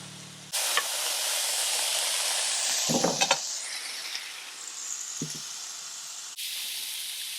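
Meat sizzling in a frying pan outdoors at a campsite beside an off-road caravan: a steady, close broadband hiss running almost throughout, with a few brief clinks of a utensil against the pan and no talk.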